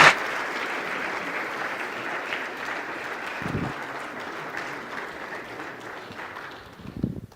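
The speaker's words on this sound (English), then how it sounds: "Let's give Dan a round of applause" An audience at a lecture on God and science applauds a guest, a broad even clatter of clapping that slowly thins and softens, with a few louder claps near the end.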